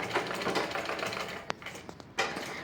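Domestic sewing machine stitching a blouse (lehenga-style jacket with thread and light sequin work), a steady low mechanical whir running throughout with a few short sharp clicks near the middle, close and moderately quiet.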